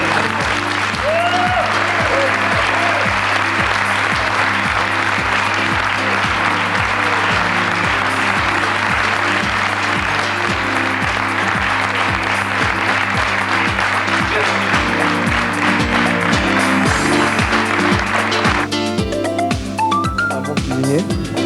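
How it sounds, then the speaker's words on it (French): Audience applause sustained for about twenty seconds after a presentation and film screening, dense and steady throughout, with a strong rhythmic low hum running underneath and brief voices near the end. "Je crois qu'on peut t'applaudir."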